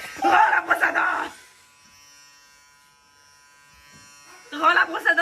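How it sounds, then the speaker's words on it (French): An electric toothbrush gives a steady, thin buzz for about three seconds, heard alone between stretches of someone talking before and after it. "Rends la brosse à dents"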